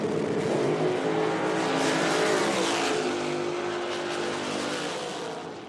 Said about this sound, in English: 170 miles an hour for Jess